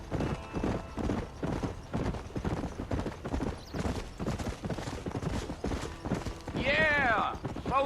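Horse hooves clip-clop in a steady galloping rhythm in the Western video game Red Dead Redemption, loud and continuous, with a brief whinny near the end and talk over the hoofbeats.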